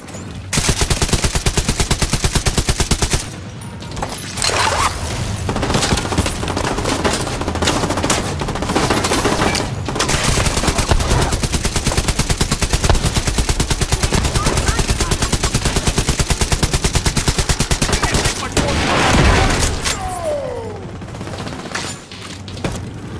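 Hostile gunfire in the video game The Division 2: loud, rapid machine-gun bursts and scattered shots rattle almost continuously, with brief lulls and a few booms, and some voices under the fire.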